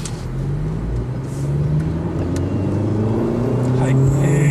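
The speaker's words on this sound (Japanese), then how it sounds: "今2速で全開しております" Turbocharged Honda Civic hatchback with a six-speed manual pulling hard at full throttle in second gear, the engine's drone climbing steadily in pitch and loudness as it accelerates, heard from inside the cabin.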